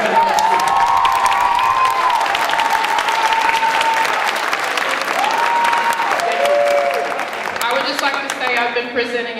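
A school awards crowd breaks into loud, dense applause and cheering, with whoops and shouts over the clapping, and a few tonal cries rising above the roar before it thins near the end.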